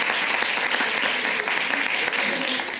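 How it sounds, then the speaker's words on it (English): Audience applause at a science communication competition final in Ireland as the judges leave to deliberate, steady dense clapping filling the whole stretch with no talk over it. "if you can give a round of applause for our judges as they disappear to deliberate."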